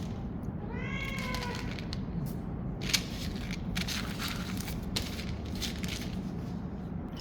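A cat outdoors meows once with a rising, drawn-out cry, fairly near, followed by faint shuffling and scattered small clicks and taps against a steady low background hum.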